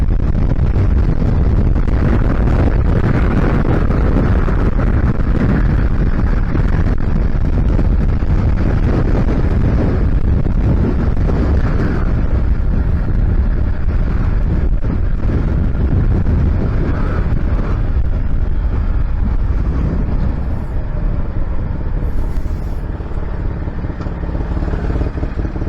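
Strong, continuous wind buffets the microphone throughout, a dense roaring rumble with gusty swells, heard outdoors near Caen while travelling, with no talking.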